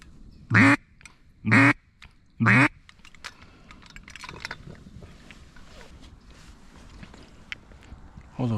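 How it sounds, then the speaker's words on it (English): Three loud, raspy quacks from a mallard duck in quick succession, followed by quiet outdoor rustling during a duck hunt. "yep, yep, mallard"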